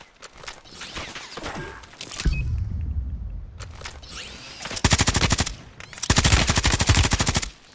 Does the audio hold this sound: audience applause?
no